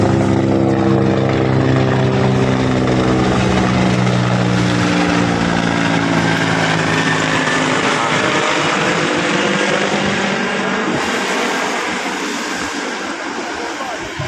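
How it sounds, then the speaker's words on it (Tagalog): A helicopter passes over the Manila Bay shoreline on a day of big waves, a loud, steady rotor and engine drone close overhead that slowly fades as it moves away. "May isang helicopter dumaan."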